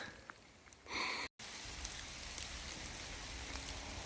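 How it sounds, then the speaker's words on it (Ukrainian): Rain falls on forested slopes in a steady, soft patter close around, broken by a brief louder burst and a very short dropout, with no one speaking. "На жаль, тимчасовий дощ."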